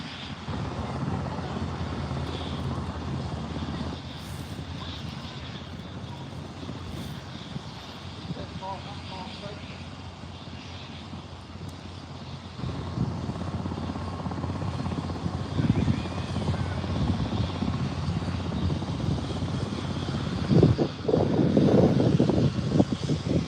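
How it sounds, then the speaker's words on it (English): An AgustaWestland helicopter's steady rotor and engine drone fills the air, holding constant and then swelling louder toward the end. "That's a nice helicopter, the Augusta Westland."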